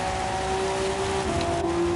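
Steady rain hiss on the track at Suzuka in Gran Turismo 7, a continuous broadband wash over a sustained engine drone from the NSX GT500, even and unbroken with no voices.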